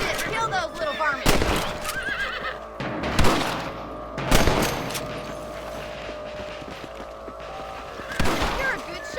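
Horse whinnies and sharp gunshots from the video game Red Dead Redemption, with several loud shots spaced across the clip over a whinnying horse and background game sounds.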